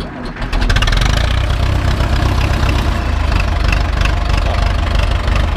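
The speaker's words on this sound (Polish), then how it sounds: "Maszynkę odpalamy." Small machine engine sputters to life and then settles into a steady, loud, close idle with a rough rumbling drone throughout.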